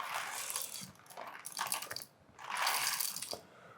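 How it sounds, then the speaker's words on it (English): A Comandante hand coffee grinder has its grind setting adjusted, giving faint, close ratcheting clicks in a few quick bursts with short gaps between them. "so like 20, 21 standard Comandante clicks"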